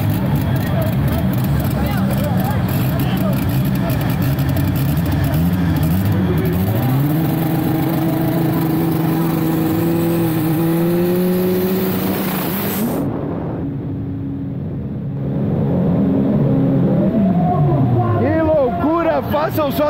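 Drag racing cars, a Chevette with a Chevette engine against an eight-valve Gol 4x4 running on methanol, rev loudly with rising and falling engine tones, a brief lull, then revving again, with people talking over the noise.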